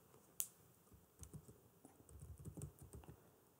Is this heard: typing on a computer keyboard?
yes